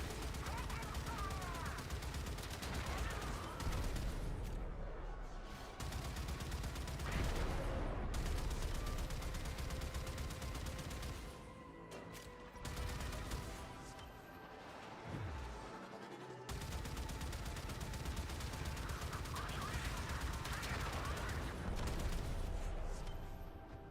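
Railjack turrets in Warframe fire rapid automatic bursts with heavy impacts and booms, loud and near, broken by short lulls across the stretch.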